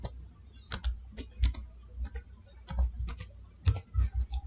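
Rapid bursts of typing on a computer keyboard, up close and alone: uneven clusters of crisp key clicks with short pauses between them, during Windows 11 permission settings.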